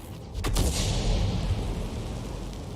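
A T92 HMC self-propelled artillery gun fires in a tank battle game, one loud close boom with a sharp crack that rolls into a long, fading rumble.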